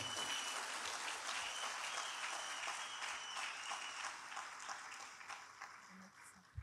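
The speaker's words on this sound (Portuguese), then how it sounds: "Bate bem forte, palmas, muito forte." Loud, sustained clapping from a church audience, dense and continuous for several seconds before tapering slightly toward the end.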